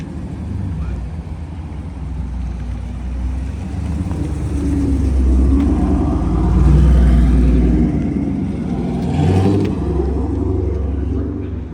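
A car rolls up nearby with a low, steady engine rumble that swells in the middle and then settles, heard alone without talk.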